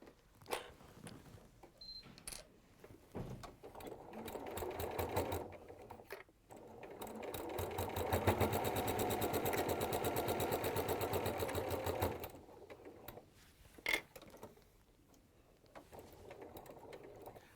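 Sewing machine stitching fabric with lining and piping at a standard stitch length, a fast rapid needle chatter in two runs, the longer one steady and close, separated by quiet handling clicks.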